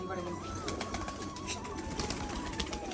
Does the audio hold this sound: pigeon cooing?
yes